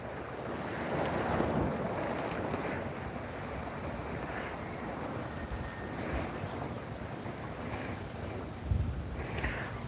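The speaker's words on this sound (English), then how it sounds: "Look right there before the wave comes in." Ocean surf rolls in on an Oahu beach, a broad steady wash of breaking waves with heavy wind buffeting the microphone throughout, and no voices.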